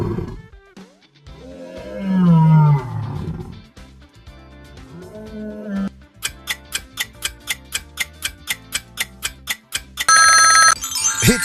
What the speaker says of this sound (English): It's a lion!